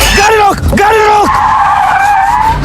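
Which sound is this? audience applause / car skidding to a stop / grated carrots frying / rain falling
car skidding to a stop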